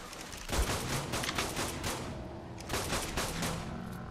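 Rapid pistol shots ring out in ARK: Survival Evolved, a quick volley of loud sharp cracks in two clusters, with a steady hum of game ambience between them.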